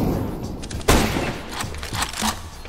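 Bursts of rapid gunfire in the video game CS:GO, one loud sharp shot standing out among quicker volleys of fire, all close and punchy.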